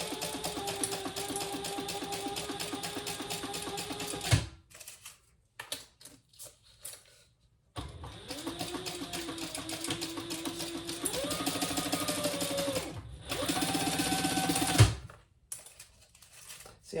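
Sewing machine chain-stitching a wallet from a bag pattern, whirring in steady bursts with brief pauses between runs, close and fairly loud.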